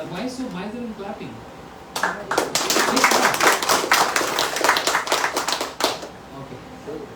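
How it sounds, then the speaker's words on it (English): A small audience at a Hare Krishna house program in New York breaks into clapping after about two seconds, a close, dense patter of hands that holds for several seconds and then fades, preceded by quiet talk. "Why so miser in clapping?"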